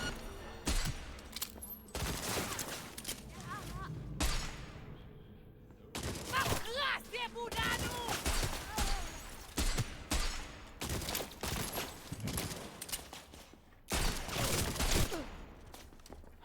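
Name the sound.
gunfire from shooting in the video game Cyberpunk 2077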